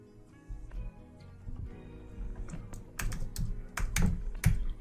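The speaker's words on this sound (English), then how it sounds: "I'm typing, by the way" Computer keyboard typing on a developer's machine, a rapid irregular run of clicks that grows louder and denser toward the end, with sharp individual keystrokes standing out over a low background hum.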